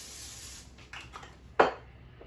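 Cooking spray hisses in one short, bright burst into a hot pan while a Philly cheesesteak is being made, following a few softer rustles and handling sounds; no one speaks.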